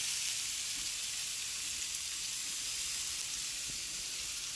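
Bacon frying in a pan gives off a steady, continuous sizzle with bright crackling hiss throughout, close and fairly loud, with no voices.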